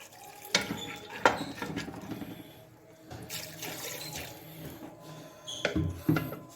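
Water poured from a glass into a chicken shami kabab mixture in a home kitchen, a splashing, gurgling pour in a few bursts with clinks of the vessel, no talking.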